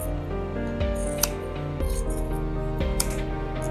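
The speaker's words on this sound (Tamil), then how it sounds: "ஒன்று போல் கட் பண்ணி விட்டுருங்க" Scissors snipping through blouse fabric up close, a series of crisp metallic cuts spaced unevenly across a few seconds with no talking.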